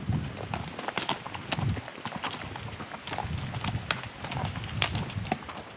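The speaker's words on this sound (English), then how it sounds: "This is Maui. This was my horse that took me places" Hooves of a horse clip-clop steadily on a backcountry trail at a hunting trailhead, a close, irregular walking rhythm of sharp knocks continuing throughout with light rustling around them.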